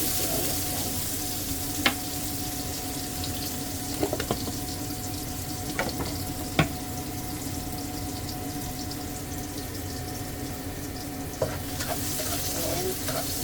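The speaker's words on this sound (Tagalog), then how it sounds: "inisa muna natin yung bawang sibuyas. Pinapakabay ko na yung bawang sibuyas guys." Garlic and onion sauté in a pan for sautéed bitter gourd, giving a steady close sizzle throughout, with a few sharp clicks of a utensil against the pan.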